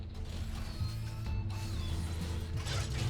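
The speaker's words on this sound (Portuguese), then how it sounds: "o bagulho vira o Batmóvel no beco" In a video game, the Batmobile transforms in an alley with a busy run of mechanical clicks, ratcheting and grinding gear sounds. Metallic creaks and whirs carry on steadily at close range without speech.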